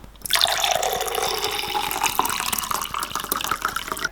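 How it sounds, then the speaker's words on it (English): Raw, unfiltered, organic acidic drink, made with the mother, is poured into a cup in a steady close splashing stream that runs about four seconds with no talking. "I just pour a little bit in a cup."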